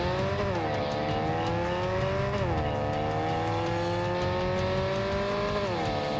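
Loud, continuous engine drone of a car in Cyberpunk 2077, pitch rising and falling in smooth sweeps as it shifts gears and accelerates, with no talking.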